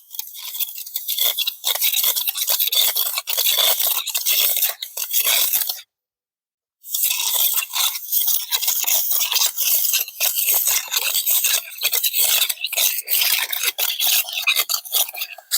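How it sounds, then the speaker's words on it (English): A trowel scrapes and smooths a fresh concrete skim coat over spalled concrete beside house siding: close, steady gritty rasping strokes with one brief pause midway, no talking. "do a little smoothing here with the trowel"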